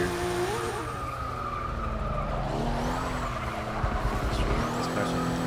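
A Ferrari 250 California race car in the Forza 6 video game, its engine droning steadily while tires squeal and skid in long wavering screeches, loud and continuous with shifting pitch.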